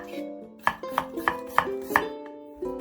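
A knife slicing half an onion on a cutting board for kimchi stew, giving a steady run of five or six crisp, close chopping taps, with soft background music underneath.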